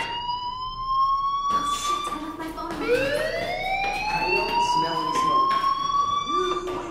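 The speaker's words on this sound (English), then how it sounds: "do you hear that fire alarm?" A fire alarm wails in the video game Life Is Strange, a loud, steady electronic siren that rises and falls in pitch throughout.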